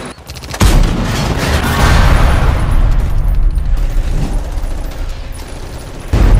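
Gunfire effects fill a toy army men stop-motion battle: a dense, loud barrage of shots and booms rolls on for several seconds before cutting off.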